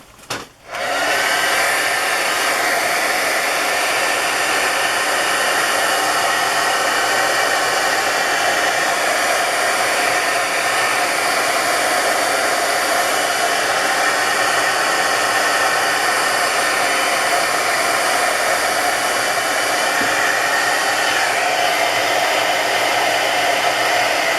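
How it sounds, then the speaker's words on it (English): A heat gun switches on and blows hot air in a loud, steady, unbroken roar for over twenty seconds while drying paper craft tags, with no talking. "I'm gonna have to turn on my heat gun."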